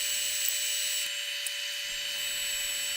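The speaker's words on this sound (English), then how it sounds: "I use a centered drill and a couple of drill bits to get the hole up to 3/8 of an inch" A continuous high-pitched whine of a drill boring a hole into a mappa burl and epoxy ring blank, steady and close, with slight changes in load and no speech.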